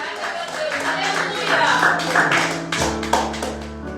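Church congregation at an evening worship service breaks into applause, a dense wash of many hands clapping that swells and carries on steadily, with organ-like sustained tones underneath.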